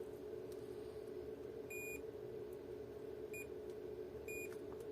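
A multimeter in continuity mode gives several short high beeps, in three spaced bursts over a steady electrical hum, during battery testing on a Samsung Note 10.1 tablet.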